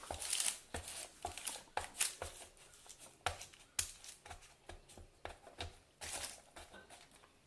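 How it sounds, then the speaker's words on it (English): A spatula scrapes and lifts baked crispy granola on a tray, breaking it into pieces with quiet, irregular crackles and scratches, close and soft, with no talking. "A little spatula to sort of lift things up, break it up a little bit."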